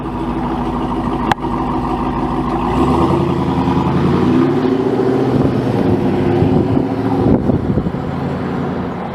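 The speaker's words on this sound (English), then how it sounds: "Yeah, the exhaust note sounds great." A prototype RAM Rebel TRX pickup with a Hellcat V8 rumbles close by with a deep, meaty exhaust note, one sharp click early on, then the engine revs up and holds a loud, throbbing drone before easing back.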